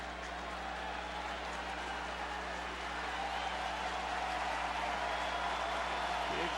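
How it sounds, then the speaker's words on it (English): A big crowd at a Wrigley Field baseball game applauds and cheers as a faint, wide wash of sound that swells slightly toward the end, heard from a distance under a low steady hum. "Big crowd here at Wrigley getting into it."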